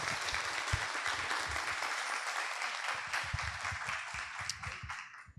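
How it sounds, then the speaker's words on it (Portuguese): Audience applause for the panelists at a panel session on Methodism, a steady dense wash of many hands clapping from a mid-distance crowd, sustained throughout and tapering slightly at the very end. "uma salva de palmas"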